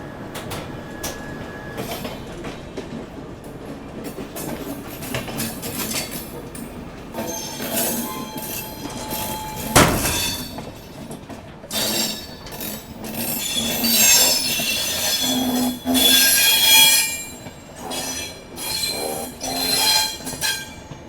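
Heard from on board, the 15744 Delhi–Balurghat Farakka Express brakes, with rumbling rail noise, metallic clanks and long high-pitched wheel squeals that rise and fade over about twenty seconds.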